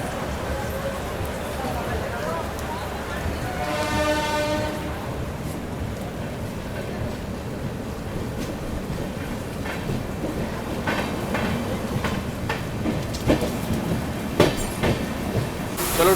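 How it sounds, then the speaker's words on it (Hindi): A LTT Mumbai–Banaras Superfast Express pulls out of Kalyan Junction at night, a steady close rumble and wheel clatter with a brief rising tonal whine early on and scattered clicks later, voices murmuring nearby. "चलो ट्रेन अपनी अभी कल्याण जंक्शन से निकल चुकी है"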